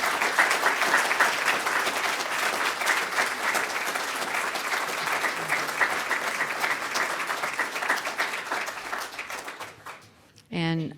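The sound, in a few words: audience applause for authors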